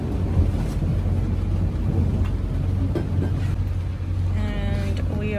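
A sailboat motoring under engine near the big bridge at Patras, a steady low engine drone with wind and water rush throughout, and a voice heard briefly near the end.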